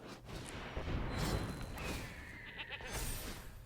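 A goat card in the digital card game MTG Arena bleats amid busy game sound effects, a short wavering cry rising over whooshes and rumbling impacts, fairly loud and close.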